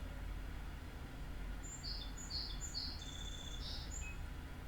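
Several short, high bird chirps and whistled calls sound faintly in the middle of the clip, over a steady low outdoor rumble, with no voices.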